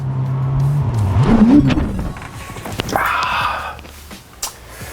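A 2020 Ferrari F8 Tributo supercar drives and accelerates close by, its low engine drone swelling into a rising rev, then settling into a steady higher-pitched engine note with road noise.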